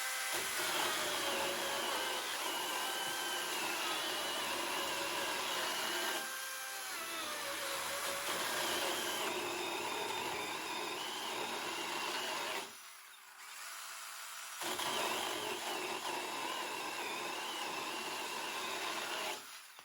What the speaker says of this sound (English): let's go ahead and make a couple of cuts of our own through this pressure treated 4x4